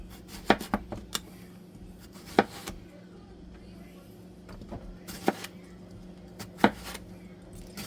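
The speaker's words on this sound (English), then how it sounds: "Just going to slice these up." Knife slicing through three large fresh garden cucumbers on a cutting board for homemade pickles, a handful of sharp, separate chops spaced irregularly over a low steady hum.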